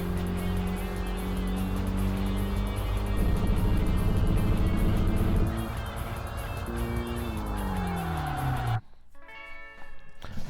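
A Honda engine in the racing video game Tokyo Xtreme Racer Drift 2 revs hard through the gears, a loud, continuous engine note climbing in pitch with each gear, shifting, then cutting sharply near the end.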